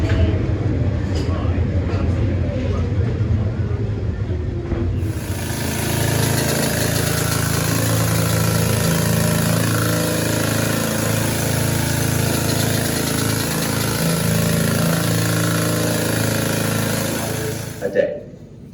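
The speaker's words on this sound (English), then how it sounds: "You could have up to 12 of these drills in the same tunnel at the same time." A rock drill runs in a copper mine tunnel, starting abruptly after some murmured voices and then roaring steadily and loudly with a harsh, continuous rattle for over ten seconds before cutting off.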